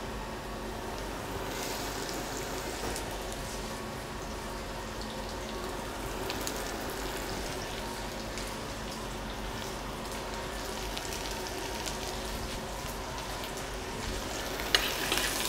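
Sliced zucchini frying in a pan just after garlic is taken out, a steady, close sizzle that holds evenly throughout with a faint clink near the end, with no talking.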